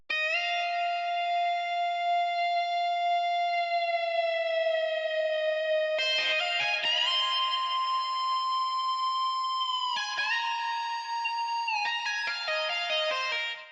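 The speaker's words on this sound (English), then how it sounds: "This is a crazy guitar phrase that I made myself with Contact." A guitar phrase built from a Kontakt instrument for a pain-style beat, panned between left and right: bright sustained harmonic notes hold steady, then a run of shifting, clipped notes takes over from the middle onward, loud and continuous.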